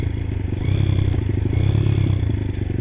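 A Honda CRZ 150 motorcycle engine from 2012, in poor condition, idles with a rapid, steady mechanical clacking ticking through its low running drone. It is close and continuous, with no speech.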